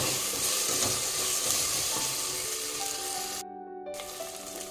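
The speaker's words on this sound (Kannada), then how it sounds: "ಶುಂಠಿ ಬೆಳ್ಳುಳ್ಳಿ ಪೇಸ್ಟ್ ಹಸಿ ವಾಸನೆ ಹೋಗೋ ತನಕ ಒಂದು ಸ್ವಲ್ಪ ಫ್ರೈ ಮಾಡ್ಕೊಳ್ಳಿ" Ginger garlic paste fries in a pan for chicken fry, a steady close sizzle with stirring, briefly cutting out near the end before resuming, no talking.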